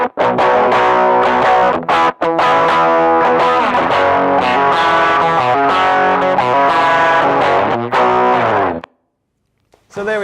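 Heavily distorted electric guitar through a Boss GT-1 recreating a classic song's tone, loud fuzzy chords played continuously with short breaks before cutting to silence near the end.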